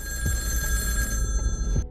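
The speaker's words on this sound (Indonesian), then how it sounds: "sebuah telepon lain berdering di dalam rumah" A telephone rings inside a house, a loud, continuous electric bell that runs nearly the whole time and then cuts off, with no voices.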